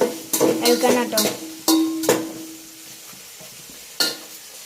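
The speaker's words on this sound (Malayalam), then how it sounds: "നല്ല മിക്സാക്കി എടുക്കാൻ ഇളക്കണം കേട്ടോ." Mango pickle with curry leaves frying in a pan is stirred in several quick scraping bursts over a soft sizzle, loud and close at first, then thinning to a quieter hiss with one last stir near the end.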